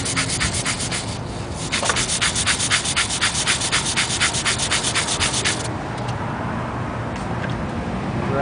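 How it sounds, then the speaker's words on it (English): A stiff scrub brush works degreaser into a pavement surface with quick, regular back-and-forth strokes, close and loud over a steady background of passing road traffic, the scrubbing stopping near the end. "Scrub it in."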